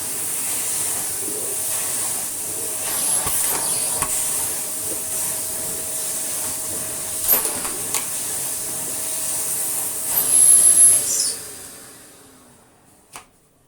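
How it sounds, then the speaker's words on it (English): A Victor V9 commercial dry tub vacuum runs with a steady, fairly quiet motor whine and airy hose hiss, a few small knocks and a brief louder surge near the end before the sound winds down and stops. "The airflow from the hose, I'm presuming you can hear over the motor sound of the machine."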